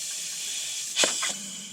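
Coolant pouring into the engine of a BMW 114i F21 hatchback being converted to M135iX spec, a steady hiss with a brief gurgling splash about two-thirds through, fairly quiet and close.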